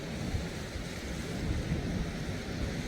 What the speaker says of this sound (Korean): 방망대의 대서양은 파도도 엄청 세네요